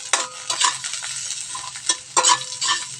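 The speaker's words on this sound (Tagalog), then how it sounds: "Mikos-mikos hanggang magkulay brown yung sibuyas." Onions stir-fried in a pan until browning, with repeated scraping strokes of a spatula over a steady close sizzle, no talking.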